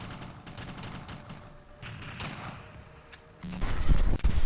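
Gunfire from the World War II shooter game Mortyr II as birds are shot: a series of sharp shots, then heavier booming thumps that grow louder toward the end.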